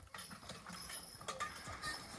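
Hooves of a team of young draft horses clip-clop on the ground as they start to walk, steady, fairly close, with no talking.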